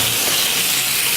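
A knob of butter sizzling in a hot pan, a loud, continuous frying hiss that stays even across the short moment.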